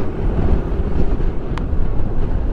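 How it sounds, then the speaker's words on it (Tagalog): Steady, loud sea breeze rushes across a white sand beach in Dasol, Pangasinan, roaring into the microphone as continuous low rumbling buffeting, with a brief sharp click midway and no voices. "Ang simoy ng hangin na galing dun sa dagat,"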